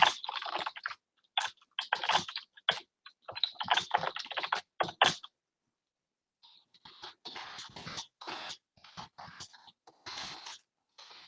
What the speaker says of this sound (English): And I'm going to now type a brief description.